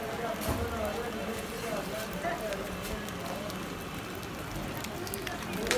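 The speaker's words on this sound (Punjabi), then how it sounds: "ਲਓ ਜੀ, ਫਿਰ ਬਾਰਿਸ਼ ਲੱਤ ਵੀ ਆ ਗਈ।" Steady rain patters across open farmland with dense, even hiss and scattered drops, a voice speaking faintly over it.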